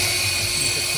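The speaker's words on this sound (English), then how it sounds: "Just making a pilot hole so that we can see where to drill." A small masonry drill bit bores a pilot hole into a wall for a power socket swap, a loud continuous whine running steadily and close up through the whole short burst.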